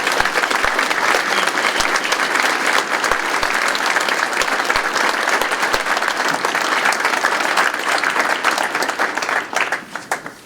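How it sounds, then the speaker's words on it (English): An audience at a Veterans Day ceremony gives the Ludlow High School choir a dense, steady round of applause, loud and sustained before tapering off at the end. "Please join me in a round of applause to the Ludlow High School choir."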